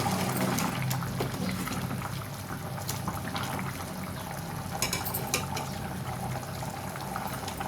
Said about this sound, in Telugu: ఇప్పుడు దీంట్లో చింతపండు చింతపండు పులుసు వేసుకుంటున్నాను